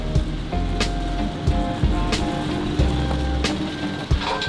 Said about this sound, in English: Obviously it's raining, because why wouldn't it be?